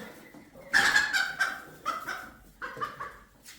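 Chickens clucking at feeding time in a farm coop, a cluster of close, loud bursts of clucks followed by several shorter, quieter clucking calls spaced across the few seconds.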